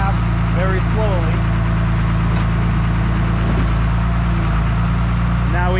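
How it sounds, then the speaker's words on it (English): A rollback tow truck's bed slowly retracting toward the cab, with a loud steady diesel idle and hydraulic drone running throughout while someone talks over it. "Now what we're going to do is bring the bed back into the cab very slowly."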